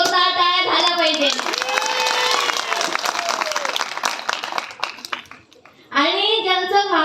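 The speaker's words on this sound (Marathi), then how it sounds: "म्हणून स्वतःसाठी एकदा जोरदार टाळ्या झाल्या पाहिजे." An audience at a village awareness event claps in sustained applause that gradually fades, with a person speaking just before and after.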